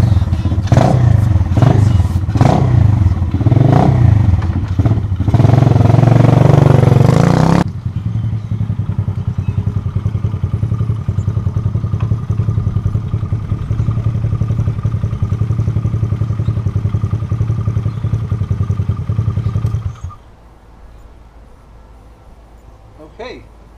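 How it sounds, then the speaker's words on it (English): A 2016 Motoped Pro 125cc motorbike with newly replaced full forks, loud thumps and revving clatter at first, then a steady loud engine drone as it rides off that drops away abruptly near the end, with talking over the noise. "I'm gonna give it a kick, gonna start it, and I'm gonna go and try it"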